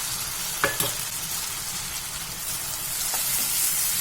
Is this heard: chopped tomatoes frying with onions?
yes